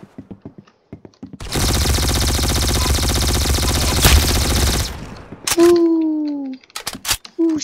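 Sustained automatic gunfire from the Roblox shooter Arsenal in a 1v1 match, a dense continuous burst lasting several seconds, followed by a short rising game effect, with brief clicks and taps around it.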